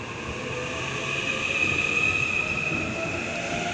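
A Zushi-bound train departs Hodogaya station platform in Japan, a continuous close rumble of rolling stock with a rising wheel squeal in the middle, heard alone without voices.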